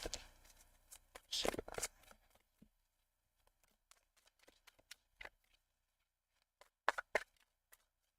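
Tarot cards are shuffled in quick riffling bursts followed by scattered soft taps and flicks, quiet and close, with a voice speaking intermittently.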